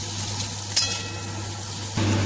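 Prawns fry in hot oil in a kadai, giving a steady crackling sizzle with a brief sharp clink partway through, then the tone shifts as the pan is handled; a low steady hum sits underneath.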